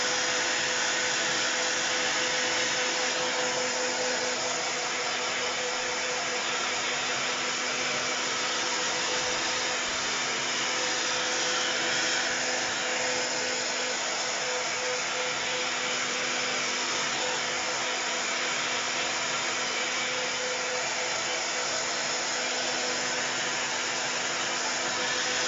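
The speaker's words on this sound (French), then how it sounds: "J'ai pas trouvé encore de sèche-cheveux qui fait pas trop de bruit." A hair dryer blows steadily with a constant whirring hum and airy hiss, close and moderately loud, running without pause throughout.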